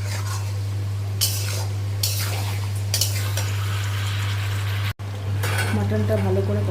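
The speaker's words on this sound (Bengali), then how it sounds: "ভালো করে এখন কষাবো অনেকক্ষণ ধরে।" Mutton sautéing in oil in a pan, stirred again and again over a long cook: scraping stir strokes and sizzle bursts come at intervals over a steady low electrical hum, with a brief dropout near the end.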